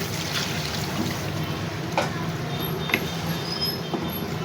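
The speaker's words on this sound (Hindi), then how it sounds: "अब शामिल कर दें थोड़ा सा पानी ताकि गोश्त गल जाए।" Water trickles steadily into a pot of chicken tikka salan curry, a soft continuous pour with a few light clinks against the vessel, heard alone at close range.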